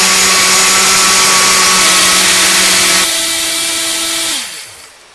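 A countertop blender whirs steadily at high speed, blending cucumber salad dressing, then the motor winds down and stops near the end. No voices are heard.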